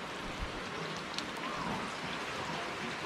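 Steady rain patters and hisses on a surface, soft and continuous, with a few sharper drops standing out.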